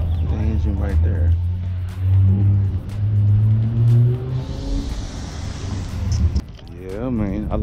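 A roadster's engine revs up and down several times at a night car gathering, loud and close, with people talking over and between the revs.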